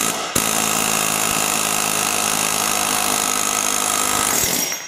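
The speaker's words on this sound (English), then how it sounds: "with the air hammer" An air hammer rattles against a pulley bolt on a Briggs & Stratton Intek small engine, a loud, continuous rapid hammering that starts abruptly and runs steadily for several seconds before cutting off.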